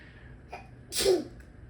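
A single sharp sneeze, preceded by a quick soft intake of breath, fairly close and alone.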